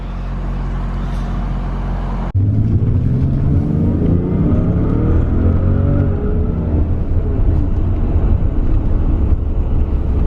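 A 1991 Toyota Supra MK3 Type R with a twin-turbo 1JZ engine idles loudly from close by, then revs hard. Its engine note rises and falls over a deep, steady rumble.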